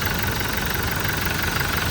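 A Toyota Innova Crysta 2.4 diesel with automatic transmission idles close up, a steady, dense, loud rumble with a faint rhythmic knock and no voices.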